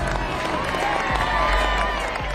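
Large outdoor crowd gathered at the Northrop B-2 stealth bomber rollout from its hangar, a continuous dense murmur with scattered applause, steady and loud throughout.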